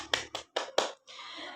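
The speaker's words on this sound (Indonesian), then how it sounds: "tepuk tangan untuk kelompok 2" A few sharp hand claps ring out in a classroom micro-teaching session, four quick separate bursts followed by a short stretch of softer room noise.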